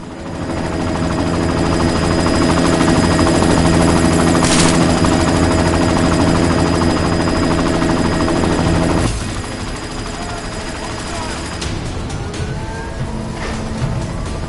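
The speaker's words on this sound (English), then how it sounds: "You've got to stop that chopper." A helicopter in the video game Deus Ex: Mankind Divided, a loud, steady rotor drone with a rhythmic chop that drops off sharply partway through, leaving quieter mechanical and ambient game sounds.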